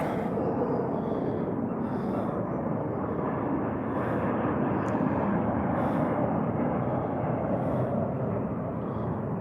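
Airplane passing over downtown Tempe near Sky Harbor airport on a Saturday night, a loud, steady engine roar that holds evenly throughout, with no talking.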